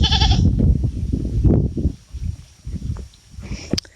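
Goats bleating nearby in the Philippines during the dry season, several loud wavering calls in a row, followed by quieter bleats and some shuffling.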